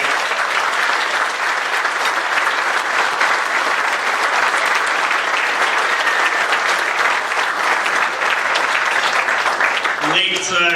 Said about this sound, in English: give me a round of applause for Dan